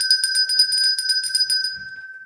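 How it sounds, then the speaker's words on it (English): A bell rings repeatedly in a fast, steady series of bright metallic strikes for about two seconds, loud and close, celebrating a milestone during a livestream. "Everybody gets bells when we reach a milestone."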